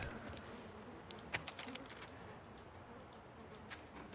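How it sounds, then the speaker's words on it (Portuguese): Flies buzzing in The Last of Us Part II video game, a faint, steady insect drone close by with a few brief louder passes, and no talk over it. "Ah, moscas, ok."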